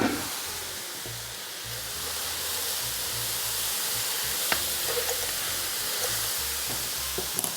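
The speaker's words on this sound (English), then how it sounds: "For 3 minutes, you have to have patience to saute them a little bit together." Cabbage and peas sauté in a pan, giving a steady, even sizzle and hiss close up, with a few faint clinks of stirring and no voices.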